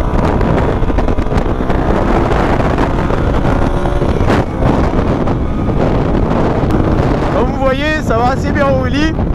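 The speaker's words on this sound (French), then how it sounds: "il y a du vent" Wind roars steadily over the microphone of a rider on a moving motorcycle, a loud, unbroken rush with constant buffeting. A faint voice-like tone rises over it near the end.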